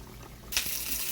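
Potatoes dropped into hot olive oil in a pan, a sudden broad sizzling hiss that starts halfway through and holds steady and fairly loud to the end.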